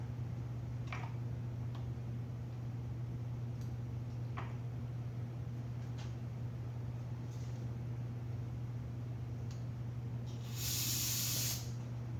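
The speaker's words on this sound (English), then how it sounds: "I'm just going to shoot just a little bit of brake clean down the throats of the car" A short, bright hiss of brake cleaner sprayed into the carburetor throats of a Suzuki SV650 motorcycle near the end, preceded by a steady engine-like hum with occasional faint ticks.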